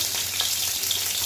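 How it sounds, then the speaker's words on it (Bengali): Bhetki fish heads frying in oil make a short burst of steady, close crackling sizzle, with no talking over it. "মাথাও ভেজে নিলাম"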